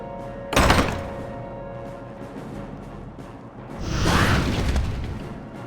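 Frost wyrm Saphiron attacking in Warcraft III: a heavy thudding impact with a burst of noise early on, then a rising whooshing roar of breath or blast later, loud and close.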